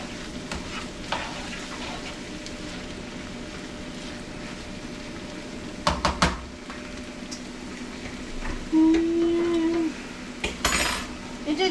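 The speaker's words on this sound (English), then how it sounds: "Let me stir this up." A spoon stirs sausage and black-eyed pea stew in a skillet, with steady scraping and clinking against the pan over a soft sizzle and a few louder knocks, close up, with no talking.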